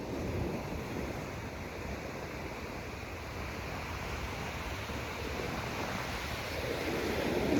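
Ocean waves at high tide at Avon-by-the-Sea surge in a broad, rushing wash, fairly soft and a little distant, swelling louder toward the end, with light wind across the microphone.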